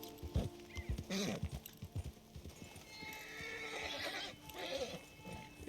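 A horse neighs and whinnies while its hooves clip-clop in irregular bursts close by, with snorts and shifting movement between the calls.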